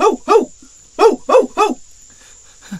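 A cartoon dog in an animated story barks five times in quick pairs and a trio, loud and close, with a short spoken word at the very end.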